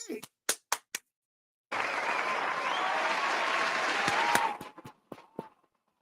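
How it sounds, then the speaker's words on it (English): Crowd at a game bursts into loud cheering and applause for about three seconds, then fades, with sharp taps and clicks before and after. "Did you hear the cheering?"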